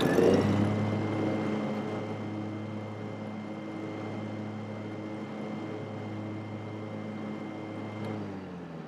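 A Scag Turf Tiger riding mower fitted with a soft start clutch runs at full throttle, a steady loud engine drone with a constant low hum heard from the rear, with no talking.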